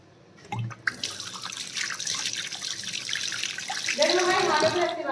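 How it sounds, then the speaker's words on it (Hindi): Tap water runs steadily into a home sink while hands are washed, a close, continuous splashing rush that starts after a brief clatter and carries on for several seconds, with faint voices in the background. "चलो हाथ धो लेते हैं थोड़ा सा"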